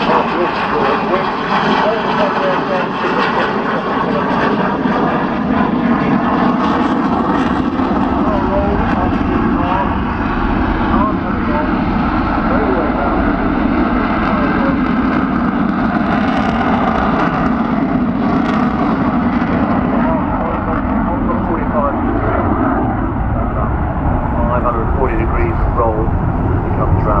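Eurofighter Typhoon fighter jet performing a flying display at the Farnborough Airshow 2014, a steady loud broadband engine roar sustained throughout with a public-address commentator talking over it.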